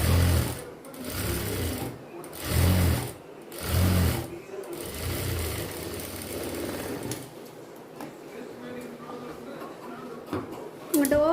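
A sewing machine stitches a silk skirt for a young girl in several rhythmic bursts of fast mechanical thumping, moderately close, then trails into quieter handling sounds and a voice talking.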